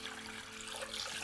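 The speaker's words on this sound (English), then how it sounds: "put the water through, cover it with water, and you can see that I have a big pot" Water pours steadily into a big stock pot full of fish bones. The rush sounds continuous and broad, with a faint hum beneath it, and no voices can be heard.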